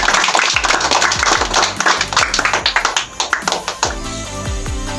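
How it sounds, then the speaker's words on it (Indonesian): A classroom group gives a burst of applause for a student discussion group, many hands clapping quickly and close by, thinning out into a few scattered claps at the end. "Berikan tepuk tangan untuk kelompok 3."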